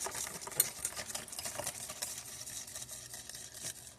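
Strawberry frozen-custard mixture being stirred in a pot: a continuous soft scraping and swishing with a faint sizzle-like hiss underneath, fairly quiet and close, with no talking.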